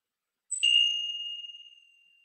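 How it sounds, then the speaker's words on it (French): A meditation gong is struck once after half a second of silence, giving a bright, clear metallic tone that rings out alone and slowly decays over nearly two seconds. "je vais faire sonner le gong"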